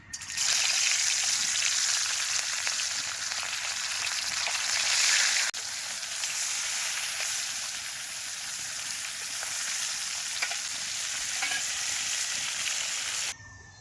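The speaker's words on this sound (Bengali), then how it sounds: "একে একে মাছগুলো দিয়ে দেবো। তেলটা গরম হয়ে গেছে।" Loud, continuous hissing and crackling of small rohu fingerlings, bata and snakehead fish frying in hot white oil, briefly shifting in intensity midway, then stopping abruptly near the end.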